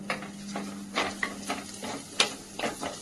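Onions sauté in a pan under quick, rhythmic spatula strokes, each scrape rising over a soft background sizzle, with one brighter clink of metal partway through.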